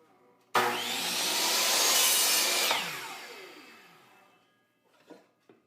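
Wood is sawn for a birdhouse: a loud, continuous cutting roar runs for about two seconds, then fades out gradually, followed by a few faint knocks.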